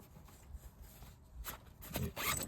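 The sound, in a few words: zip opening on fishing rucksack lid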